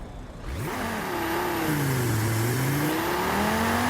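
KTM X-Bow GT2 race car in Forza Horizon 5, its engine revving up loud and close, pitch sweeping upward through gear changes with a steady roaring drone and no voices.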